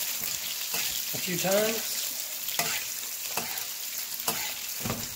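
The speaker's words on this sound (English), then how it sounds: "Now you're going to take the thyme, butter, mixture, and just baste the fish" Pan-seared flounder sizzles steadily as thyme butter is spooned over it, with light clicks of the spoon against the pan and someone speaking briefly over the frying.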